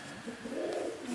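A lively young male racing pigeon coos softly in a short, low, throaty phrase, close by and with no speech over it.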